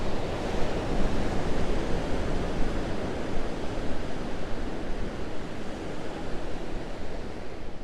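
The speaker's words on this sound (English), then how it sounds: "just look at the sea, Paula" Sea waves wash steadily onto the shore in a continuous broad roar of surf, loud and unbroken throughout, with wind-like hiss and no voices.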